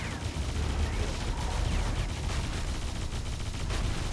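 Dense, continuous barrage of booming cannon shots and explosions in the video game Defense Grid 2, loud and steady throughout with no pauses.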